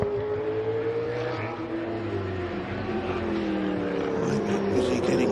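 A sports sedan racing through a circuit hairpin at a Sydney race meeting, its engine note droning and shifting pitch as it passes at moderate distance, with other engine noise layered in the background.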